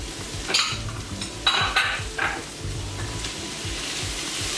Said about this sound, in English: This is almost like a stir fry.